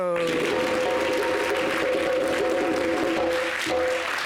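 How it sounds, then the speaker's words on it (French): A burst of audience applause with clapping throughout, mixed with a sustained musical tone and some voices over it. "Applaudissez pour le maestro."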